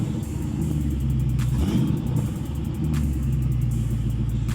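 A Ford truck engine idles with a steady low rumble after an EFI fuel tank and pump install, close and continuous, with a slight rise in revs partway through.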